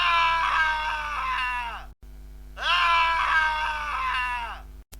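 Cartoon character screams in pain after an axe falls from a woodcutter's hand and cuts his arm: two long, loud, strained cries, each trailing off, separated by a brief silence, with no talk.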